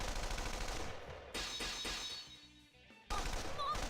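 Heavy automatic gunfire and artillery in a video game battle, loud and dense with rapid bursts, a brief lull with lower thuds, then the barrage resumes at full strength.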